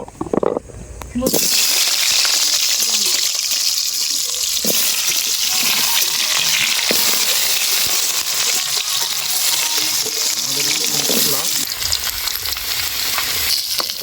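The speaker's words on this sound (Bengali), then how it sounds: "এই দেখো আমি যে নতুন আলু সে নতুন আলুটা একটু ভেজে নেব" Loud, steady sizzling of new potatoes frying in hot oil, with occasional stirring scrapes, after a brief quieter moment at the start.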